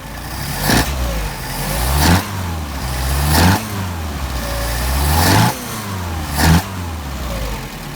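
Car engine fitted with a Solex carburetor, running loud and close, revving up sharply four times in a steady rhythm and dropping back to a rough idle between each blip.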